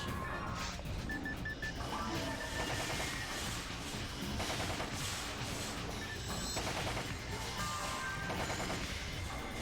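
Cannon fire and heavy combat in Phantasy Star Online, dense overlapping blasts, impacts and effects packed into a loud, continuous barrage with no pauses.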